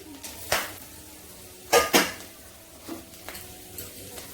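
Whole cardamom, cloves and cinnamon sticks, following whole cumin, hit hot oil for a Bengali chicken kosha, producing a few sharp pan clatters and metallic spoon knocks with a faint sizzle beneath, fairly close.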